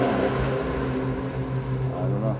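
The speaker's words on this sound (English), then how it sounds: "there's a car." A car's engine drones steadily nearby in an area where race cars run all day, giving a continuous low hum with faint tonal layers and no voices.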